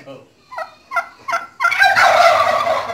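Farm turkeys in Bangladesh give three quick, bubbling gobbles close by, then a louder, longer burst of overlapping gobbling from the flock fills the rest, with no talk.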